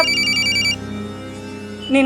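An electronic telephone ring trills loudly, pauses briefly, then starts ringing again.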